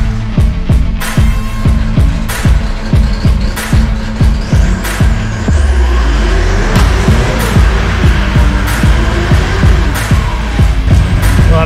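A car drivetrain spins up after the drive shaft is reinstalled during a driveline vibration repair: a loud, close engine note with rapid rhythmic thumping pulses that rise in pace and stay steady throughout, with no speech.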